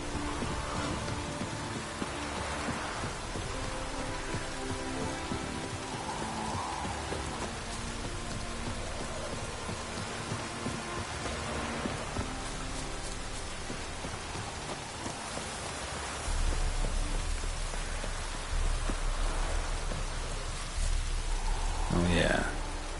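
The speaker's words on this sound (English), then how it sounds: "Rain again." Steady rain falling in The Witcher 3, a continuous broadband hiss that runs throughout, with a faint low rumble and brief louder patches near the end.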